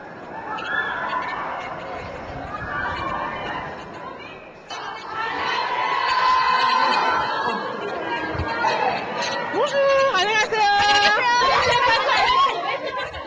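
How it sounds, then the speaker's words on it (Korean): A crowd of fans clamoring at an airport in Paris as K-pop group Super Junior arrives, with excited overlapping chatter, shrieks and high-pitched squeals building louder over several seconds. "공항에서부터 벌써 팬들로 들썩인다."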